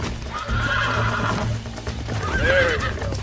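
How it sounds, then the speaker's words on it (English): Horses in a Western setting: a horse whinnies with a rising, wavering neigh over a steady rumble of hooves, fairly close and continuous. "We got some fine horses."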